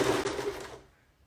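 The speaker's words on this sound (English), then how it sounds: "so sew straight along the bottom" A sewing machine runs a short burst of stitching along the bottom edge of a fabric face mask, a close, buzzing whir that stops abruptly and trails into quiet.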